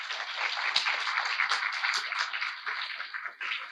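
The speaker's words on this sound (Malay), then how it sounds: "Berikan tepukan pada mereka." Applause for the organisers of a student translation competition, thin and somewhat distant, a continuous patter of many hands that holds steady with a brief dip near the end.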